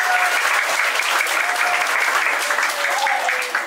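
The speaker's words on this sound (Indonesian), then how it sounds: "Jos buat kalian, tepuk tangan" Audience clapping at a one-day English and character camp at a villa, a steady, dense wash of applause throughout with faint cheering and a voice or two mixed in.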